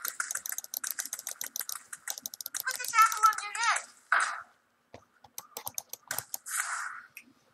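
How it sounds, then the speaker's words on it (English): Rapid mouse and keyboard clicks during Hearthstone play, dense irregular bursts of sharp taps close by, broken by short stretches of quiet and a few brief voice sounds. "Clicking intensifies."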